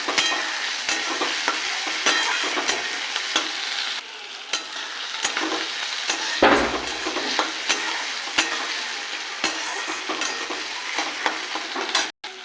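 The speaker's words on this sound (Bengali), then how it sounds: "এবার দিয়ে দেবো টমেটো কুচি। এবার একটু ভাজবো।" Chopped tomato fries in a pan for egg tarka, a loud close sizzle broken by repeated scraping stirs of a spatula, with no talk.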